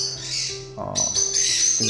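Harsh parrot squawks inside a Busan indoor zoo, loud and close, with a sustained screech that shifts pitch partway through and continues to the end.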